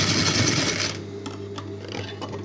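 A sewing machine stitching a blouse runs in a steady, fast, close mechanical whir that eases slightly partway through, with no voices over it.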